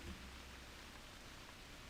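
Steady rain with wind in theHunter Classic, an even broadband hiss of downpour and gusts that holds at low level throughout with no other sounds.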